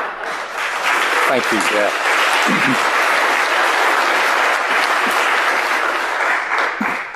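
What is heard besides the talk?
audience applause at a talk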